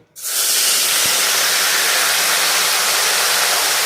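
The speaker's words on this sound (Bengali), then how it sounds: "আটা সেটা কপিটা ভেজে নিলাম।" Cauliflower frying in hot oil in a wok: a loud, steady sizzling hiss that starts abruptly and continues without a break, close by.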